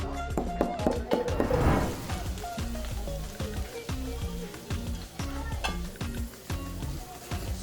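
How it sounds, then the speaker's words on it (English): Vegetables stir-fried in about three tablespoons of vegetable oil over strong heat sizzle steadily, with scraping stirs and light clatter under a bed of background music. "Stir it for around 3 minutes. With strong fire."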